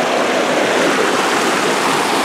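Floodwater surges over the side of a bridge in a steady, loud, broadband rush, continuous and close with no pauses and no voices.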